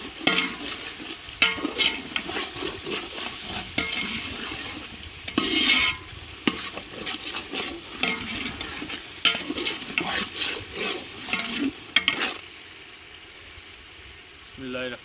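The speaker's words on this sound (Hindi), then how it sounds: "मसाला नीचे लगना शुरू हो गया था, इसमें थोड़ा सा हम पानी डाल देंगे" Water poured into a browning masala in a pan for chana pulao hisses and sizzles, with intermittent stirring scrapes, fairly close and loud, and brief bursts throughout.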